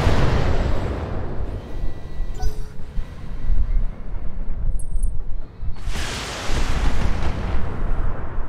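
Loud, continuous booming and rumbling of heavy mech weapon fire in the game Battletech, dense blasts with a brief lull before another surge.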